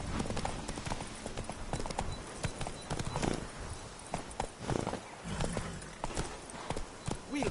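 Hooves of Roach, the horse in The Witcher 3: Wild Hunt, galloping in a rapid, rhythmic clip-clop over ground, steady and close with other game sounds beneath.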